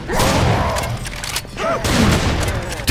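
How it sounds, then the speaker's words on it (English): Loud, heavy gunfire from the Serious Sam 4 first-person shooter, booming shots and rapid bursts rolling almost continuously with a brief dip midway, dense and close, no talking over it. "These guns are loud, they shake your screen all over the place."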